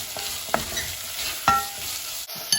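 Prawns stirred into fried onion and tomato for a Goan prawn curry, with a continuous close sizzle broken by a few sharp utensil clacks against the pan and no voices.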